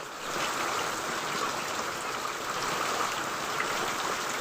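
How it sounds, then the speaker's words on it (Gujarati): Heavy rain pours steadily over a village cotton farm, a dense, even hiss with no pauses, close and loud throughout with no voices. "ફૂલ વરસાદ ચાલુ થઈ ગયો છે"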